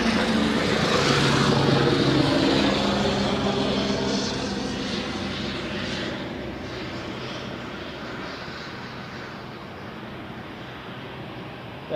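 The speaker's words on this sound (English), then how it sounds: "That was a helicopter of the Swiss Air ambulance." A Swiss Air ambulance helicopter passes at Zurich Airport, a loud engine and rotor roar that is strongest early and then fades steadily as it moves away, with no talk.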